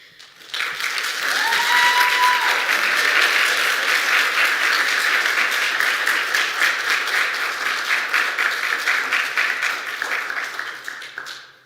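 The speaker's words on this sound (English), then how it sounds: "one last round of applause for all of our seniors" A large audience applauds graduating college seniors after their senior exhibition presentations, with dense, steady clapping that rises quickly, holds for about ten seconds, and gradually thins out.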